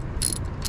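A ratchet loosens a 13 mm bolt on the battery holder of a second-generation Chevy Traverse, a few quick, faint clicking bursts in quick succession, close up and quiet.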